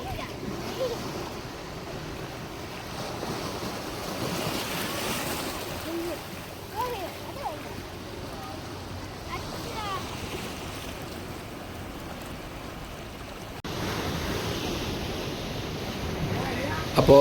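Sea waves wash and break steadily on Kadalundi beach near Kozhikode, a continuous mid-level surf roar mixed with wind buffeting the microphone, with faint voices in the background and a louder surge near the end.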